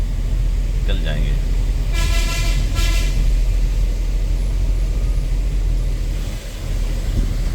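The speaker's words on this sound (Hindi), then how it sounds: "पीछे हॉर्न पे हॉर्न मार रहा है" Vehicle horns honk repeatedly from behind on a foggy highway between Chennai and Mumbai, a brief beep followed by two longer loud blasts over a steady engine and road rumble.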